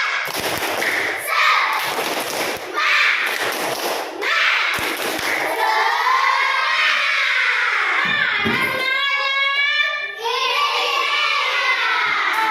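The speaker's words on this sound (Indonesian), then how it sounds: "Sekali lagi, tepuk semangat." A class of children doing a rhythmic spirit clap, sharp claps in quick patterned bursts followed by loud chanting and cheering voices, close and lively, with the clapping pattern repeating several times.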